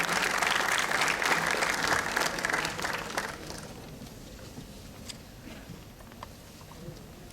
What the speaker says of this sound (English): Let's present sir with a huge round of applause